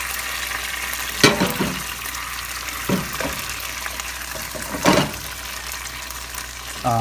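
Pats of butter melt in a pan with balsamic vinaigrette over low heat, giving a steady soft sizzle and hiss. A few louder clinks and scrapes from stirring sound up close.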